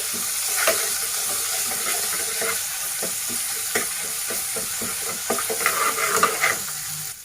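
Cumin seeds and ginger garlic paste sizzle steadily in hot oil for a dhaba-style Sindhi aloo baingan, with close scraping stirs and a few sharper spatters near the end; no one speaks.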